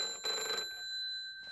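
A cartoon telephone rings in a short electronic bell burst, then falls quiet before the next ring begins, clear and close with no voices.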